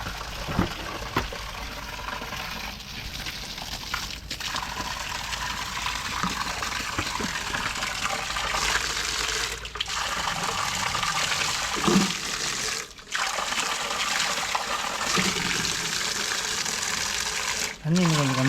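Tap water runs steadily into a container during household cleaning, a continuous close rush that fills the whole stretch, with a voice briefly heard over it.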